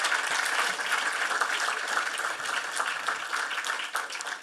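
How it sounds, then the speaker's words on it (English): Steady audience applause for a presenter at an entrepreneurship and innovation event, continuous and fairly close throughout, with no talking over it. "Let's have another round of applause for Mr. Delarue."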